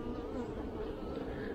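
Honey bees hum in a dense, steady drone during a hive inspection, a continuous soft buzz of many insects close by with no talk over it.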